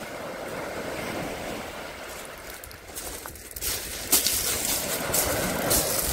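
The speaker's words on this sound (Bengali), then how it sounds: "ঢেউ আসবে।" Sea waves wash in on a rocky beach at Portsmouth with a steady roar, swelling louder toward the end as surf breaks nearby, with some wind buffeting.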